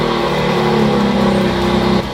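A BMW X3M engine starts and settles into a steady, loud idle hum that runs close and alone before the level drops slightly at the end.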